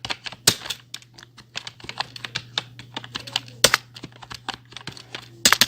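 Quick, uneven clatter of keys being typed on a computer keyboard, close and clear, with short pauses between bursts and a low steady hum underneath.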